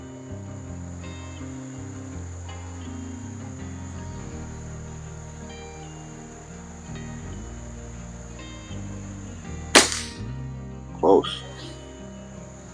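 Webley Longbow air rifle fired at a 25-yard target, with one sharp crack near the end followed by a softer thud, over a steady background hum and someone talking.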